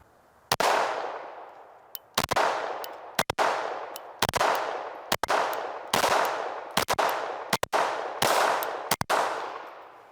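An FN 509 CC Edge pistol fitted with a compensator fires about eleven sharp, loud outdoor shots, each with a ringing decay. Some come in quick pairs and others are spaced a second apart, with no talking.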